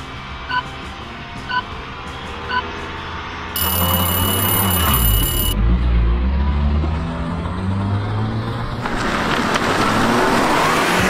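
A Mini hot hatch launching at full throttle in a drag race against EV family cars: a few short beeps, then a loud engine surge and roar up close, dropping briefly before revving hard again.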